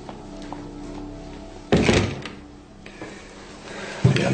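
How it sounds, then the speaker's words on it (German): A door closes with a solid thunk in a quiet hospital room, followed by a softer knock near the end, with no talk. "Schließen Sie die Tür."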